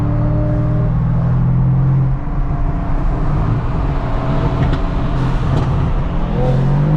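A Mercedes-AMG C63 engine revs hard and loud, its steady droning pitch breaking off around an upshift before pulling again under continuous road noise.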